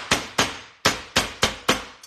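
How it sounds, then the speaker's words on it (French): A kitchen hammer taps raw chicken thighs in six sharp, evenly spaced hits, each a crisp thud that fades quickly, with a faint seventh tap at the end and no talking. "Des petits coups de marteau."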